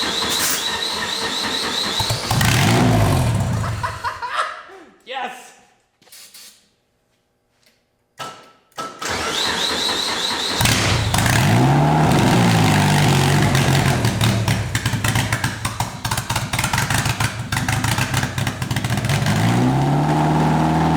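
A freshly installed engine in a garage project build cranks and then fires, with loud broadband running and revving before a brief near-silent gap, then sustained loud revving with rising and falling pitch sweeps.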